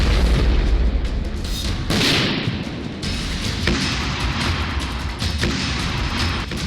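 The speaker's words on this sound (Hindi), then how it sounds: "इजरायली सेना ने हमास के आतंकियों की 15 किलोमीटर लंबी सुरंग को भी बारूद" Heavy explosive blast destroying a Hamas tunnel in Gaza, a loud rumbling boom with sustained low roar and debris crashes continuing throughout, no voices.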